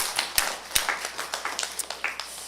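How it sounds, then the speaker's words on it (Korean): A church congregation claps in thanks to God during a worship service, a dense scatter of fairly quiet, overlapping claps with a few sharper near strikes standing out, steady for a couple of seconds with no voices. "우리 한번 하나님께 감사의 박수 한번 올려드립시다"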